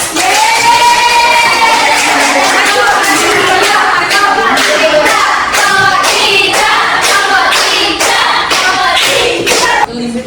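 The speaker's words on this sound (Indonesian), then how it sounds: "Tepuk tangan." A classroom of junior high students claps loudly for a group presentation, a dense burst of close, sharp applause with a few cheers, sustained for about ten seconds before stopping abruptly.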